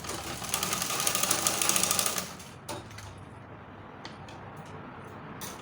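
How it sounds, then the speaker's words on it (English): Sewing machine top stitching elastic into a shirred smocked top, a fast buzzing run for about two seconds, then it stops, leaving faint clicks and handling noises. "I'm going to top stitch it to hold the elastic at a place"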